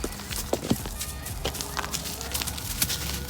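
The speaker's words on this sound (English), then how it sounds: "We got the black and white chicken." A black and white laying hen clucks in short, scattered bursts at close range, with soft shuffling and scratching sounds between the calls.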